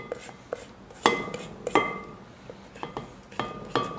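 Metal scraper or spoon clinking and scraping against a mixing bowl full of chocolate cookie dough in a home kitchen, a series of sharp clinks and short scrapes at an irregular pace, close and fairly quiet.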